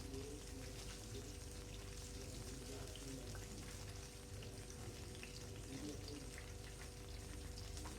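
Potato and cauliflower pakoras fry in hot oil, giving a steady, bubbling sizzle that crackles continuously at a low, even level, with a voice faintly present in the background.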